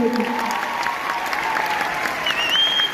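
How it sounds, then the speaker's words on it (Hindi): Audience applause at a celebration event, a sustained, even roar of clapping from a crowd, with a brief tonal sound and faint voices at the start. "एक बार हमारे पिताजी के लिए डायरेक्टिव से तालियां हो जाए।"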